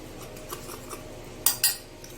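A metal spoon clinks lightly against a dish while sugar is stirred into a sweet cutlet mixture, a few soft taps followed by two sharper clinks near the end.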